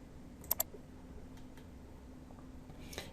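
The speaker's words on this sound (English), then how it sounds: "you can start typing the name" A few light, quiet clicks of keys being pressed, two quick taps close together then scattered soft taps, in a hushed room.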